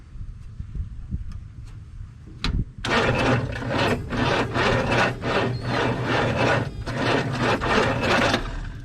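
A 1962 Chevrolet C10 pickup cranks over on a weak lawnmower battery, a loud, steady rhythmic churning that begins after a couple of seconds and continues without catching.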